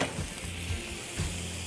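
Rolled lamb searing in fat in a very hot pan, with a steady close sizzle and frying crackle throughout and small bursts of louder spitting.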